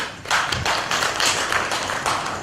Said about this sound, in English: Can you give him a big round of applause, please?